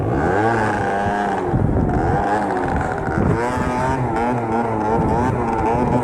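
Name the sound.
50cc scooter engine revving during wheelie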